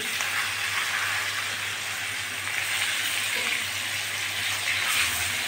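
Steady, even sizzling of climbing perch (koi fish) frying in hot oil, a close, continuous hiss with no pauses and no voices.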